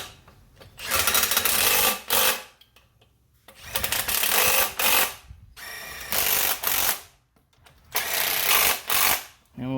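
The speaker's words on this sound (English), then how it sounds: "I'm going to use our 17 millimeter impact." A 17 mm impact wrench drives transmission bolts while a Honda Civic automatic transmission is installed, firing in three long, loud rattling bursts separated by brief pauses.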